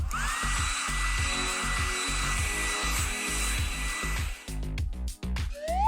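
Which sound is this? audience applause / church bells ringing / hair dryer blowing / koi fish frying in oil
hair dryer blowing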